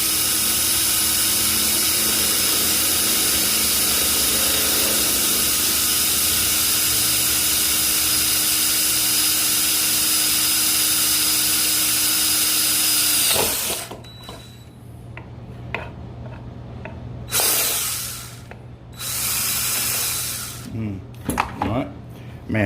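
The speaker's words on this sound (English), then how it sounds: "this right angle drill, we got it in, and I've been putting it to use for almost everything that we got here in the shop" A right angle drill runs steadily in a workshop, a loud continuous whine lasting about thirteen seconds before it cuts off, followed by quieter shop clatter and short bursts of drilling on metal.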